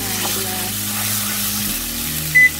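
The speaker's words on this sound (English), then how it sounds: "And I'll just give everything a good stir." Boiled eddoes for choka, cooked with salt, are stirred in a pan over medium-low heat, giving a loud continuous sizzle and scrape, with a brief high tone near the end.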